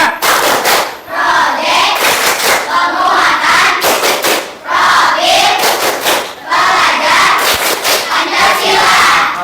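A classroom group of students performing a rhythmic clapping chant together, loud bursts of synchronized claps and shouted voices in repeated phrases with short pauses between sections.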